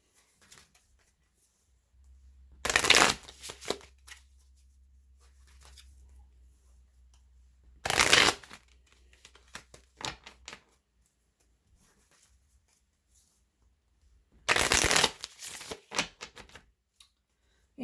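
Gilded Tarot cards shuffled in three short, crisp riffling bursts, each a second or so long, spaced several seconds apart with quiet between, close and fairly loud, no talking.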